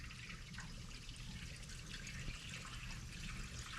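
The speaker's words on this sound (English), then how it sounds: "Okay, fill up with coolant" Coolant pours into the radiator of a 1966 Jeep CJ5, a steady, even liquid trickle and rush with no breaks, moderately quiet and close, with no talking.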